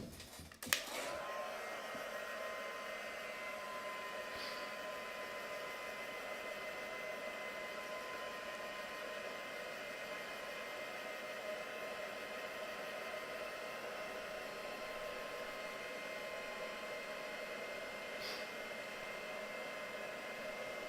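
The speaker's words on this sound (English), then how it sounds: "I am going to do a little bit of drying on this because I'm not going to like watching paint dry." A hair dryer blows steadily on wet paint on a craft project, a faint continuous whooshing hum lasting throughout with a brief click as it switches on.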